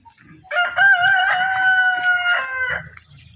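A rooster crows loudly and nearby in one long, drawn-out call, while chickens cluck softly in the background.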